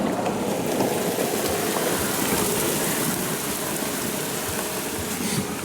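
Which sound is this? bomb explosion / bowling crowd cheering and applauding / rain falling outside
rain falling outside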